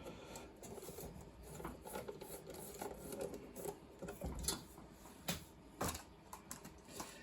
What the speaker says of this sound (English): I'm going to put 4 screws into this